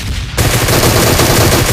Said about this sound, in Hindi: मुझे सामने वाली पहाड़ी से गोली चलने की आवाज आती है